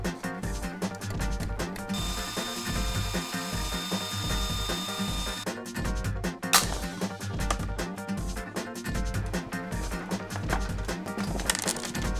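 An Etekcity collapsible LED camping lantern being taken apart with tools, giving close, continuous clicking, ratcheting and plastic rubbing with scattered sharp snaps and knocks, no speech.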